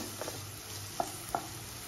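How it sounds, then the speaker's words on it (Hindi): Vegetables, including onions, fry in a pan for restaurant-style jalfrezi, giving a steady soft sizzle with a couple of light stirring clinks over it. "अब हम इनको अच्छे से दो से तीन मिनट हमें आराम से लग जाएगा इसको फ्राई करने में"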